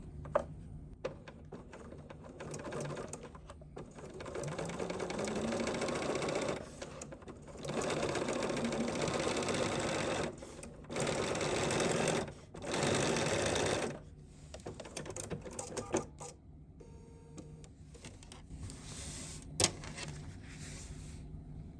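Bernina sewing machine fitted with a #38 piping foot stitches piping on denim in several sustained whirring runs with short pauses between, close and steady, ending in quieter intermittent stitching.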